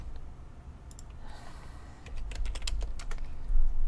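Computer keyboard typing, a run of quick, irregular key clicks that grows busier and slightly louder partway through, close up over a low background hum.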